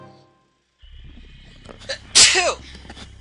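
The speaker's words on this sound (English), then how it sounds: "I think I'm about to sneeze." A single sharp sneeze bursts out close by after a brief pause, with a quick intake of breath before it and low background hum throughout.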